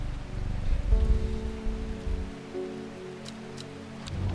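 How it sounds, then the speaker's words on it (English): Rain falling in the video game Strange Horticulture, a soft, steady patter on surfaces with a low background hum, fairly quiet and continuous with no voices. "It rains a lot here in Undermere."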